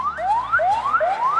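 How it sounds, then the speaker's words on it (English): Ambulance siren wailing in a busy city street in Phnom Penh, Cambodia, its rising sweeps repeating steadily about every 0.4 seconds, close and loud over traffic noise. "Oh, we also hear an ambulance."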